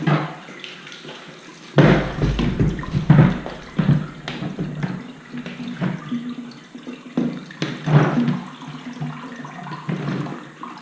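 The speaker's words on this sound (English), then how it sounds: "I'm just going to prop it up by the drain here, let it drain out for a while, get rid of some of that excess water" Excess water drains and trickles out of a washed Allergy Gold electrostatic furnace filter propped up by a floor drain, a steady watery rush with splashy surges and drips, fairly close and heard alone.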